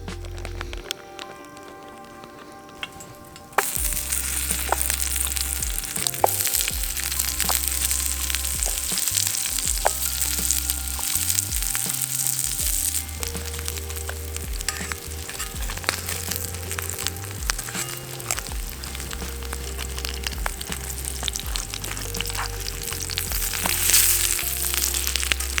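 Halloumi cheese fries in a pan at a campsite, a loud steady crackling sizzle that starts suddenly and holds throughout alongside a low rhythmic thumping, with no talking.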